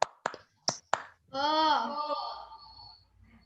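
Four crisp hand claps in quick succession during a group guidance clapping game, then a young voice answers with a long, rising call.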